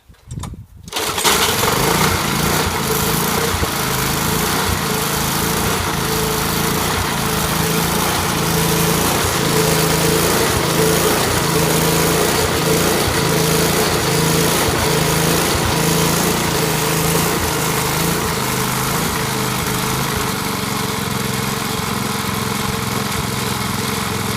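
A small Briggs & Stratton Quantum petrol lawn mower engine, its carburettor jet just cleaned, sputters to life and then runs steadily with a loud, close, high buzzing drone.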